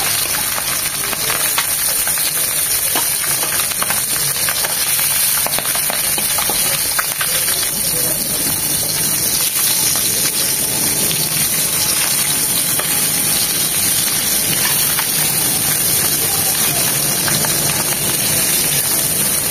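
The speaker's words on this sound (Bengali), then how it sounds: "এগুলো এখন হালকা করে ভেজে নেব।" Magur catfish frying in hot oil, a steady, loud sizzle and crackle that holds unbroken throughout.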